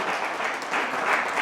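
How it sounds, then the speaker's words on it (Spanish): A church congregation gives loud, dense applause, many hands clapping together at close range, steady and sustained for a brief burst. "Denle el aplauso fuerte al Señor"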